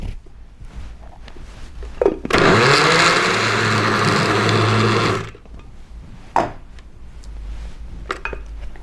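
A blender whirls ice cream ingredients in a loud burst lasting about three seconds, rising abruptly and cutting off, with kitchen clatter and handling noises before and after.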